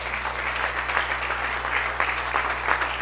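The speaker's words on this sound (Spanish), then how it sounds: "Denle un fuerte aplauso a la gloria de Dios" A church congregation breaks into sustained, even applause, a dense wash of many hands clapping together that continues at steady volume throughout, with no speech over it.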